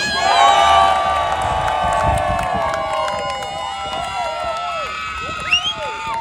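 A large crowd at a supercar donut show cheers and shouts loudly, many voices whooping and yelling together, the roar fading slightly before a few individual high shouts near the end.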